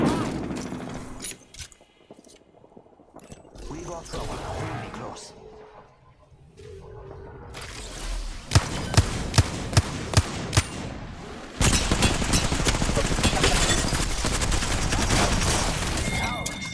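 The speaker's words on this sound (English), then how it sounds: "I got shot from both sides." Gunfire in the battle royale game Apex Legends, with bursts of rapid automatic shots and sharp single cracks, some distant and some close, mixed with game noise and talking.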